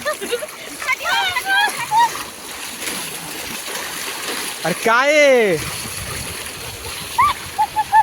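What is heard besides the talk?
water splashing in river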